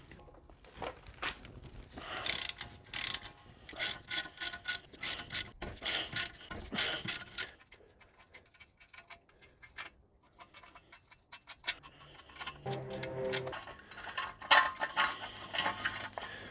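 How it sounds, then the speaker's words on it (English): A socket wrench with a 14mm socket ratchets out the eight bolts holding the dust cover and backing plate on a Toyota Landcruiser swivel hub, giving bursts of quick metallic clicks with short pauses, close and moderately loud, with no talk. "grab a 14mm socket on the socket wrench, and we're going to remove these 8 bolts"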